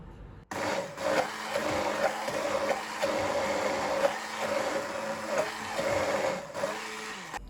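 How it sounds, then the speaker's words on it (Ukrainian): An electric blender whirs continuously, its motor pitch wavering as it churns thick olive-oil mayonnaise, starting abruptly and stopping at the end. "Тепер ставлю блендер ось так на дно і вмикаю."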